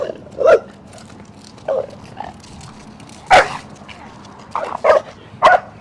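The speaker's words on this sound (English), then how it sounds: "already Joshua's dog's going off" A reactive dog barks repeatedly while out on a walk: sharp, close barks in uneven bursts with short yips between them, over a low, steady outdoor background.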